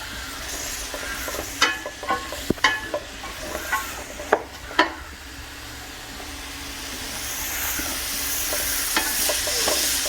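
Capsicum and other vegetables stir-fried over a high flame, with a steady low sizzle and scattered sharp clicks and scrapes of a spatula against the pan, fairly close.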